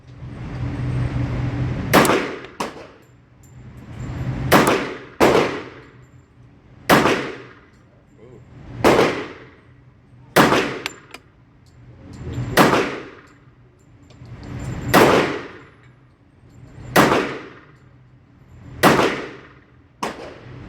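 A stainless Bul Armory SASII Tac Commander .45 ACP pistol fires about ten loud, sharp shots at a range, evenly spaced roughly two seconds apart, each with a brief ringing tail and no talking.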